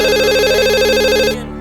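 A telephone rings in a home with a loud, warbling electronic trill that lasts about a second and a half and then cuts off, heard alone.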